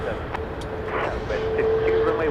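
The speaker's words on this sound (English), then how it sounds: "Another incoming flight over on the east side, which we are about to zero in on." An incoming Boeing 737-800 airliner on approach at Dallas Love Field gives a steady distant engine drone with a rising whine, heard under a person talking.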